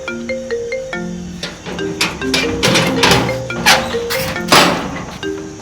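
A mobile phone ringtone plays a repeating electronic melody for several seconds, close and clear, interrupted by a few dull thumps and knocks.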